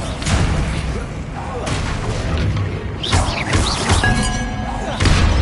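A Bombarda blasting spell goes off in a wizard video game as a series of dull thumping impacts and booms, buried in busy, loud game noise with speech mixed throughout.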